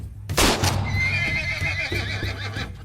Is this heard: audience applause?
no